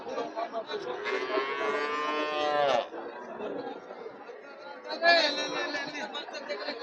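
Two drawn-out cattle moos, one long and a shorter later one, rise over a busy cattle market in Joypurhat with people chattering nearby.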